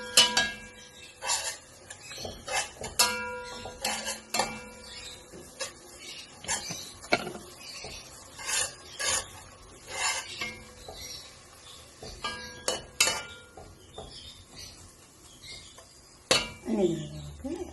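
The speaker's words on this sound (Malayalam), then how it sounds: "നമുക്കൊന്ന് ഇളക്കി ചെറുതായി ഒന്ന് മൂത്ത് വരട്ടെ" Metal spoon scraping and clinking against a pan while onions fry for chicken korma, in scattered bursts of clatter with soft sizzle beneath and a voice speaking at times.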